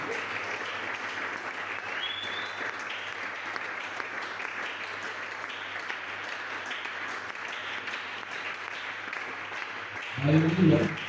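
A church congregation applauds and cheers loudly and steadily in one continuous wash of clapping and voices, then a brief burst of louder sound rises at the very end.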